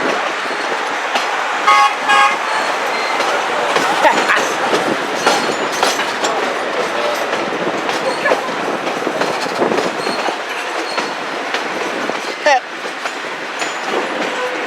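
A steam excursion train rolls past near a highway, with loud, close, continuous rumble and rattling wheels, clickety-clack beats and brief whistle-like tones, and some voices faintly mixed in.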